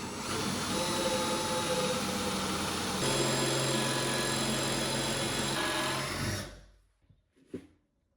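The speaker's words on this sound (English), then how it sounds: "in order to drill these through holes to secure the back of the vise to the underside of the bench" A hand-held power drill whirs loudly and continuously for several seconds, boring through holes in a workbench for a vise, pitch shifting slightly, then winds down to silence followed by a few faint clunks.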